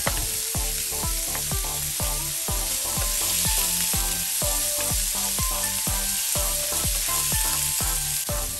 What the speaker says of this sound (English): So continue sauteing until the ground pork firmed up.